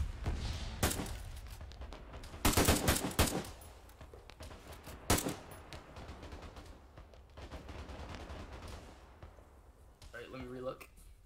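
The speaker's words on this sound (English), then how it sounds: "Just fire at any contacts you see in and around the town." Gunfire in the military video game ArmA 3, with sharp rifle and machine-gun bursts, some close and loud, others distant and scattered, while someone talks over radio-style chatter.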